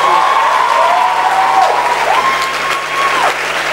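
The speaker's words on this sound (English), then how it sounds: "Please give them a big round of applause" Steady audience applause fills an auditorium at a live TEDx event, loud and continuous for a few seconds, with a faint tonal whine drifting over the clapping.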